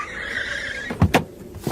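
A car slows and comes to a halt close by, a brief mechanical whir followed by a couple of short thumps.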